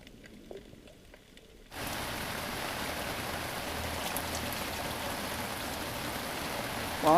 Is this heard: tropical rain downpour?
yes